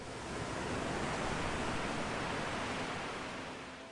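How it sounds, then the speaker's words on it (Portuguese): Gentle sea waves wash in a soft, steady hiss that swells slightly and then eases, close and even with no voices. "sendo embalado por ondas suaves do mar"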